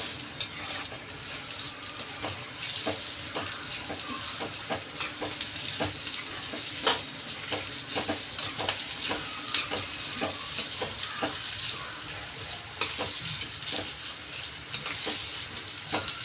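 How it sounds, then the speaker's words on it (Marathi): Steady sizzling of something frying in a pan until it reddens, with a continuous crackle and frequent light stirring clicks throughout; no voices. "आणि मस्त याला लाल रंग येईपर्यंत तळून घ्यायचं आहे।"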